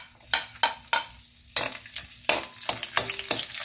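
Garlic with pork and chicken frying in a pan for adobo, with loud bursts of sizzling and repeated scraping stir strokes at a steady rhythm, close up and with no talking.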